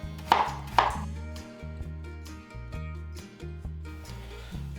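A kitchen knife chops apples into half-inch cubes, giving two sharp cuts near the start and softer taps after, all over background music.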